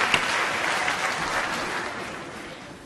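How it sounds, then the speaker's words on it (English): Applause from a conference audience during a panel, a dense close wash of clapping that stays steady and then slowly thins toward the end. "That's always an applause line, by the way."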